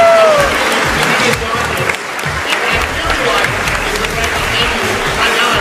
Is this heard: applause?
yes